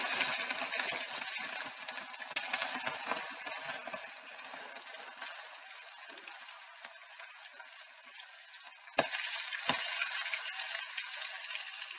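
Mustard seeds and other tempering spices sizzling in hot oil for a Telugu broad bean and sesame curry, a steady bright crackle that thins out midway, with a couple of sharp clinks near the end.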